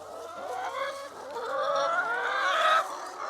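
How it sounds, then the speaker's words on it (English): Brown sex-linked hens clucking and murmuring nearby, a continuous overlapping chorus of soft, throaty calls rising slightly in pitch, with no speech. "These are a brown sex-linked chicken."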